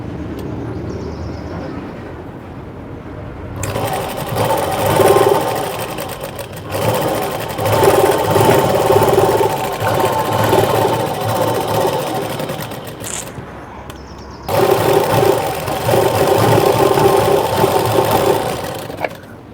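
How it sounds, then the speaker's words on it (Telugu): Fast mechanical whirring and rattling of a sewing machine stitching a blouse, running loud and close in two long bursts separated by brief pauses. "ఇప్పుడు మళ్ళీ కుట్టేసేయండి."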